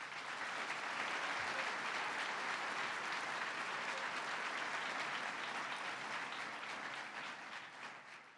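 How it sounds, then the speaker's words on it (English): Audience applause at a governor's State of the State address, a steady, dense wash of clapping from a large crowd, sustained throughout and tapering slightly at the end. "Let's give her a round of applause."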